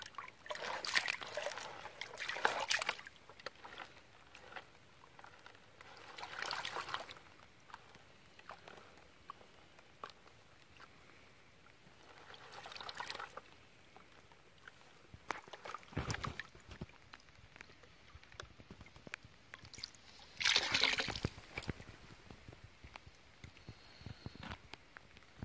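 Water sloshes and trickles in a gold pan during creek prospecting, soft swishing bursts recurring every few seconds, faint and close with quiet gaps between.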